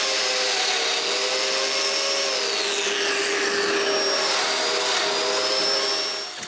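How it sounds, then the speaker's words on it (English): A power drill bores mortises into a wooden bookcase stretcher, its motor whining steadily and loud for several seconds before winding down at the end. "I transfer the marks to it and drill the mortises."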